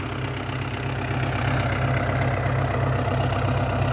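A steady, low diesel engine of an MTZ 1025 tractor idles close by in a field, a constant rumbling drone with no talking.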